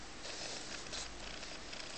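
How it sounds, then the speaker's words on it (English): A ragdoll cat purring steadily up close, a soft continuous rumble with no voices over it. "This is a ragdoll cat."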